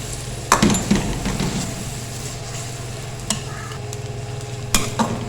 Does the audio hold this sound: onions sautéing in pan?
yes